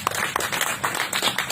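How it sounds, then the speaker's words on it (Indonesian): Audience clapping in a brief, scattered burst, individual claps audible as uneven taps rather than a full wash, fairly close and moderately loud. "Luar biasa, tepuk tangan dulu."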